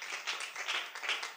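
A church congregation applauds together during a worship service, a dense, steady wash of many hands clapping that swells in waves, fairly close and continuous with no talk over it.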